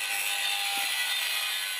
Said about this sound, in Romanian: zgomot de bormașină